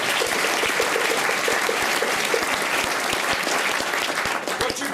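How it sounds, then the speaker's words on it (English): An audience claps at a Maori welcoming ceremony in a Rotorua village, dense sustained applause throughout, loud and close, tapering slightly at the end. "How about a round of applause for them?"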